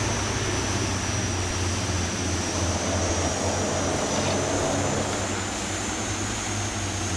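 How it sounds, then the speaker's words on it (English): A De Havilland DHC-6 Twin Otter on skis roars steadily in reverse thrust, a loud, continuous propeller and engine drone with a high whine holding constant, no voices. "let's deploy our reverse thrust"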